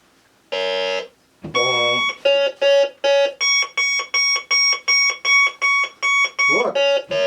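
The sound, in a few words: metal detector beeping tone ID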